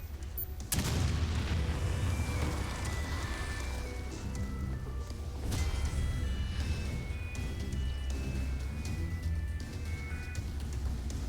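A grenade goes off in the video game Umbrella Corps with a sudden loud boom near the start, followed by a long rumbling tail under dense, crackling battle ambience, with a second thud partway through.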